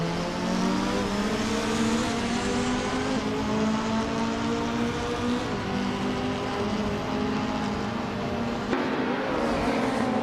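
Several race cars, including a vintage BMW, roaring off the start line, with a sustained, loud, steady engine drone and no break, no talk over it.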